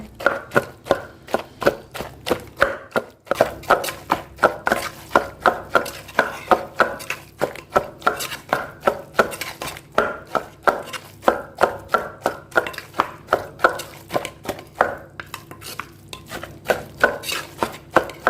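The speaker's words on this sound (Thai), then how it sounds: "ตำพริกแหลกแล้วก็ตำอันนี้ลง" Mushroom chili paste with pounded chili and fish is worked in a mortar for Isan-style nam prik het fang, giving a steady run of sharp, evenly spaced thuds close by, roughly two to three per second, with no talk over them.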